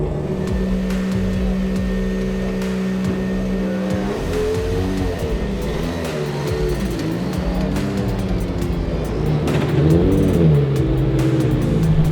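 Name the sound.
BTCC race car accelerating out of the chicane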